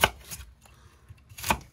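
A knife chops through the root end of a fennel bulb on a cutting board, giving two or three crisp, close thunks separated by brief quiet.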